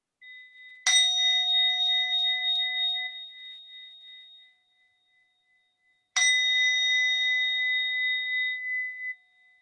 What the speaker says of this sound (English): with the bell and just listen to the bell